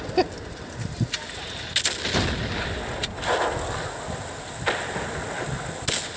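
Tank cannons fire in the World of Tanks video game, with several sharp, loud booms scattered over a constant rushing battle din.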